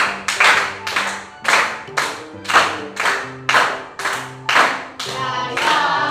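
Rhythmic hand clapping in a primary school class: about eight bursts of claps in a steady beat, loud and close, with group voices sounding along in between.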